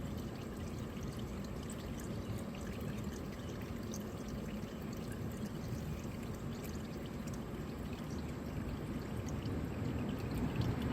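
Engine oil runs out of a car where the oil filter has been removed, a steady, close pouring stream that continues unbroken without voices.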